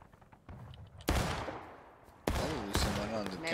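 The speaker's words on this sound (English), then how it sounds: "Enemy south, independent fire!" Several loud, sharp gunshots from an independent firing volley in a Civil War reenactment skirmish at Hagerstown Turnpike. Single cracks ring out with reverberating tails, close by, while a voice talks faintly underneath.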